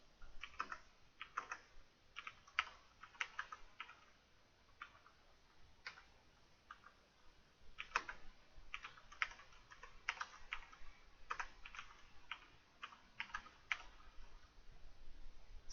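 Keystrokes on a computer keyboard while code is typed into MATLAB, quiet irregular clicks in uneven bursts with short pauses, close and alone with no talking.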